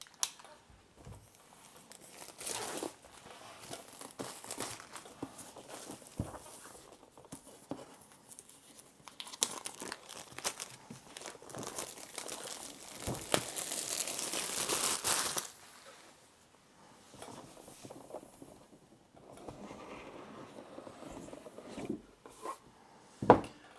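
The shrink-wrapped box of the Distilled board game is cut open and unwrapped, with scratchy rubbing, tearing plastic and rustling cardboard, plus a sustained scraping stretch in the middle, quiet and close with irregular soft knocks.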